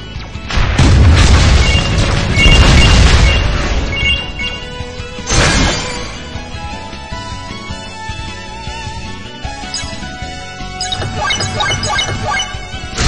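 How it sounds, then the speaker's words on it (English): A burning rocket weapon fires in the mobile game WinWing, giving a heavy booming blast with crashing debris, then another sharp burst, and loud layered game effects throughout. "Burning rocket."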